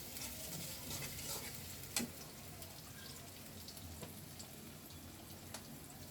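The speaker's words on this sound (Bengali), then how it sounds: "আমি এখানে পেঁয়াজটা ভেজে নিচ্ছি।" Onion frying in a pan, a faint steady sizzle with occasional soft ticks and stirring knocks, quiet and close.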